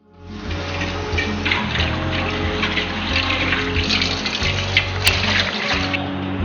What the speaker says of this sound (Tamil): அந்த சாதத்தை ஒரு மண் பாத்திரத்தில் எடுத்து அதை மூழ்கிற அளவுக்கு நான் தண்ணி ஊற்றி வச்சுக்கிறேன்